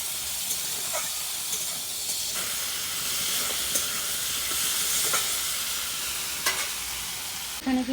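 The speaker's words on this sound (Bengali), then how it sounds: "এখন এই যে গুগলিগুলো দিয়ে দেব।" River snails and potatoes frying together in a pan, giving a steady, close hiss and sizzle with a few faint scrapes of stirring, and no talking.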